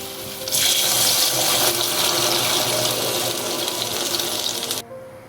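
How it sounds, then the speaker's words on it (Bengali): Water pours into a cooking pan of hog plums and melted sugar for a sweet-sour chutney, a steady loud splashing rush that starts abruptly, runs for about four seconds, then stops. "চিনিগুলো পুরোপুরি গলে গেছে, এরপর আমি জল দিয়ে দিচ্ছি।"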